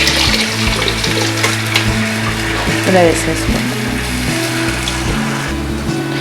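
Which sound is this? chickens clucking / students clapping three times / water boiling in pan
water boiling in pan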